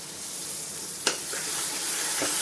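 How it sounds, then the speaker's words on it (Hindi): Tomato puree frying in a pan for banana kofta curry, giving a steady bright sizzle and hiss with a couple of brief spattering pops, close and constant. "इनको भूनने के बाद इसमें हम 1 टमाटर की प्यूरी डाल देंगे।"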